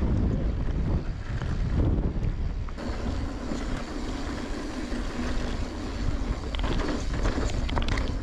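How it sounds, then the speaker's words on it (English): Strong wind buffets the microphone on a mountain bike trail, a steady loud roar of rushing air that runs throughout. "glad the wind is from the left here"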